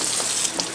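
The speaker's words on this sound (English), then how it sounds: "Turn that water on." Water runs from a kitchen tap into a pot of greens and salt pork before pressure cooking, a brief hissing splash close by.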